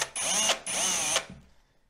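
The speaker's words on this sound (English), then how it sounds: "I had to drill it a little bit wider at the front on the 8 mil" Power drill with an 8 mm bit widens a hole in wall tile in two close, high whining bursts, the second longer, each ending abruptly before fading to quiet.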